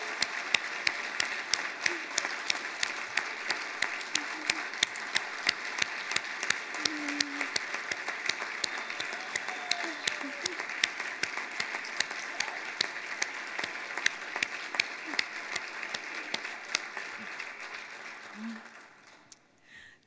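Audience at an alumni awards reception giving a long, sustained round of applause for award recipients, dense steady clapping from many hands filling the room, tapering off at the end.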